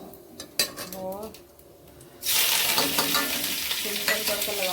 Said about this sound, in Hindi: सिंपल तड़का लगाऊंगी घी और जीरे का।